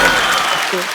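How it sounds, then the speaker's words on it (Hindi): A studio audience on The Kapil Sharma Show breaks into a short, loud burst of applause for Tiger and Shraddha, heard for under a second with a voice over it. "एक बार टाइगर और श्रद्धा के लिए जोरदार तालियां हो जाए।"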